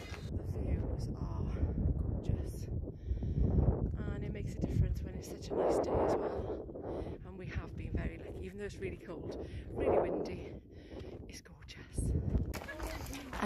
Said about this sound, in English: the wind was really bad, so you couldn't hear a word I was saying